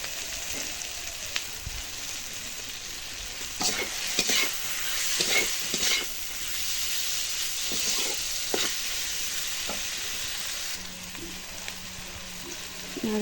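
Potatoes and paneer for an aloo paneer curry fry in a pan with oil, a continuous close sizzle and hiss punctuated by repeated scraping stirs, with no one talking.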